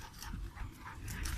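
A dog fights a rooster in a yard, with close, continuous dog panting, whimpers and scuffling and a few sharp yips across a brief stretch.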